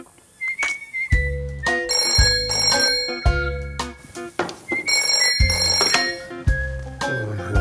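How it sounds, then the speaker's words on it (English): A telephone rings in repeated bursts, with clear bell-like tones sounding loud and close in a quiet room, with no talking over it. "When Jess rang me on the phone"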